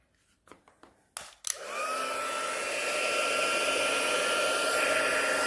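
A few clicks, then a handheld heat tool for embossing powder whirs to life and keeps a steady, close blowing hiss as it warms up at a craft desk.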